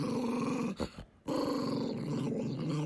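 Deep, rumbling growls like angry dogs, sustained and close, broken by a brief near-silent gap before resuming.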